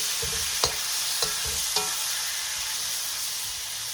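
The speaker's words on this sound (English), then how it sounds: "I'm just going to add the tomatoes like that. And quickly stir fry them" Tomatoes stir-fried in a hot wok for spicy chicken karahi: a steady broadband sizzle throughout, with three sharp scrape or tap transients from the utensil in the first two seconds.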